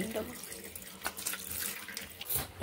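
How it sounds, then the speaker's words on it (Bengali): Tap water runs while cut koi fish are rinsed, a steady close splashing with small clattering spikes throughout. "এখন ভালোভাবে ধুয়ে পরিষ্কার করে নিচ্ছি।"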